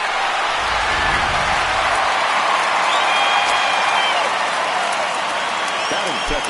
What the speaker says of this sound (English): No better way to get the home crowd into it right out of the gates.